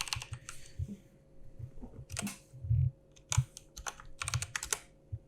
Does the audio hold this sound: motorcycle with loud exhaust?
no